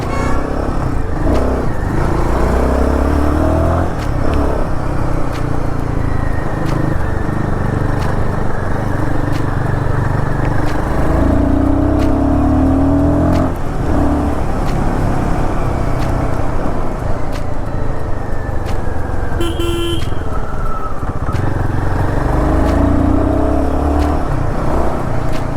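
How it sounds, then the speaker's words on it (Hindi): Royal Enfield Guerrilla 450 motorcycle engine running steadily while riding, a continuous close, loud single-cylinder drone with rising and falling revs and rumbling wind and road noise, no talking. "इंजन का साउंड सुन सकते हो गाइस आप, काफ़ी ज़्यादा प्योर साउंड आ रहा है।"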